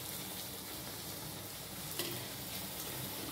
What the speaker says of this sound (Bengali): এইভাবে আমি প্রত্যেকটা লুচি ভেজে নেব